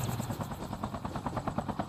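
A helicopter in the Call of Duty Mobile Blackout battle royale mode thumps steadily with rapid rotor pulses, sustained and fairly close, with no voices over it.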